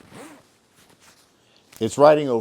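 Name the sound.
zipping up a 5.11 XTU LT3 jacket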